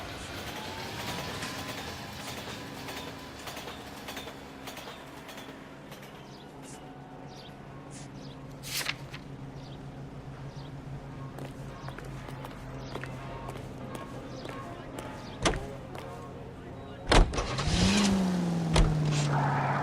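Car engine from a 1940s-style driving sequence in L.A. Noire, a steady low hum rolling on for the whole stretch with faint street ambience and a few sharp knocks, ending in a louder surge near the close.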